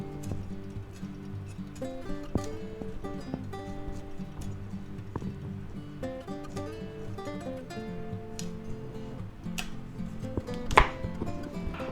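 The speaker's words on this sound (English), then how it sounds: "go ahead and slice off some of these, you know, make florets out of them" A knife chops broccoli into florets on a cutting board, a run of close, irregular woody knocks and thuds with a louder hit near the end, with no talking.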